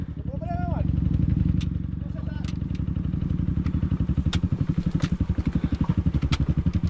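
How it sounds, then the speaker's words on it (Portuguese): Honda Tornado motorcycle engine running roughly with a strange knocking, a steady close-up rhythmic thumping throughout, with voices heard briefly at the start. "Minha moto tá com ronco muito estranho."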